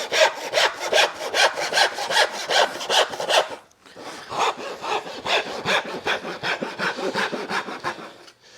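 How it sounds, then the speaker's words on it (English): A hand saw cuts through wood for a small display shelf in steady back-and-forth strokes, close and loud with an even rhythm. After a brief pause it resumes sawing at a similar pace with no voices. "Just pick up your saw and go for it."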